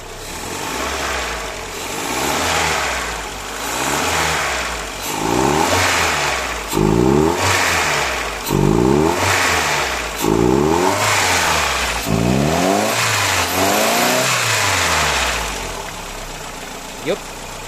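A naturally aspirated car engine idles and then revs repeatedly in sharp bursts, each climbing and falling in pitch, loud and close, with a voice talking at times.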